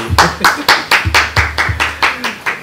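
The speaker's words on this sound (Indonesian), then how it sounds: "Tepuk tangan sekali lagi." A loud, steady round of hand clapping at an Indonesian community talk gathering, about nine evenly spaced claps in sequence, with some voice underneath.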